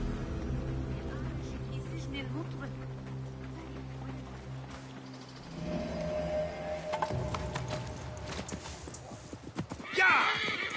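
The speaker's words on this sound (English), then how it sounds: "I prepared the horses." Horses neigh and hooves clip-clop in Assassin's Creed Mirage, with steady hoofbeats and a whinny near the end, under characters' voices.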